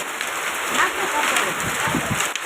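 Heavy rain with hail pours steadily and loudly, a dense continuous patter with a voice briefly audible beneath it.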